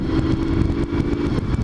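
A motorbike engine drones steadily while being ridden on a road with corners, a loud, continuous mid-pitched hum with slight pulsing and no speech.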